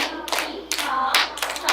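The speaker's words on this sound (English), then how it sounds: "so very successful at clapping the rhythm." Students in a music lesson clap a rhythm chain, the handclaps coming in short, loud bursts separated by brief pauses, close to the listener, with no talking.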